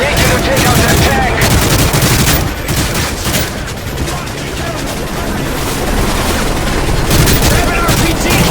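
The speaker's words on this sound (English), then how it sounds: "we have Russian armor firing on the bridge" Russian tank fire hitting a bridge in a Call of Duty Modern Warfare battle, loud booms and rattling gunfire layered densely together, with a brief dip in the middle before the barrage picks back up.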